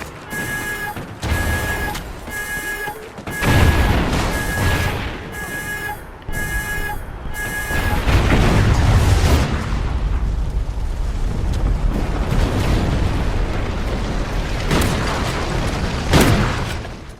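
A nuke killstreak in Call of Duty Ghosts, with beeping alert tones followed by a long, loud rumbling detonation that rolls on for many seconds with a few later booms.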